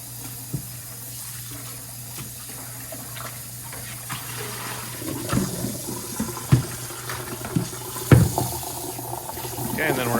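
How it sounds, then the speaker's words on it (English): Water strained off washed food while preparing Filipino adobo sa asin in a kitchen; a steady splashing rush with a few sharper clatters and spills that grow louder toward the end, with no talking. "then we're going to strain it, get the water off of it"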